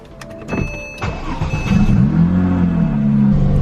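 A Porsche 997.1 GT3 starts up in a garage with a few sharp clicks and cranking, then its engine catches and settles into a loud, close, rising idle with a deep rumble.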